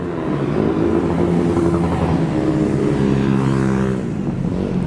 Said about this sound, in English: He's just doing wheelies.